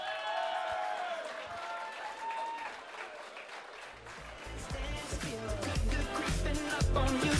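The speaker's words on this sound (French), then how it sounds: "Je vous demande d'applaudir Wilfried Juncker et Claire Drolette." Audience at a 2016 graduation ceremony breaks into applause for two student union leaders, the clapping starting softer and swelling to a loud, dense roar of hands over a faint musical tone.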